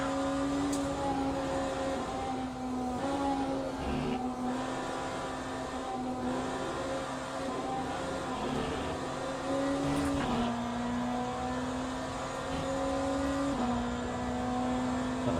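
Race cars, including LMP prototypes and a Ferrari, run together on track in Le Mans Ultimate with a continuous close engine drone and gear-shift pitch changes through a long steady stretch, with no voices.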